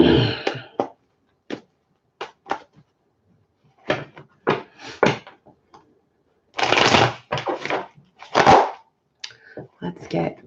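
A tarot reader shuffles a deck of cards in bursts of riffling and tapping, with short crisp snaps and longer shuffling runs separated by quiet gaps. It sounds close and fairly loud.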